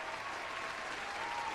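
Canned applause sound effect, a faint, steady wash of crowd clapping with no break, heard at low level without voices.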